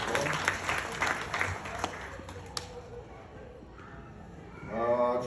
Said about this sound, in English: Thank you so much for the round of applause for him as well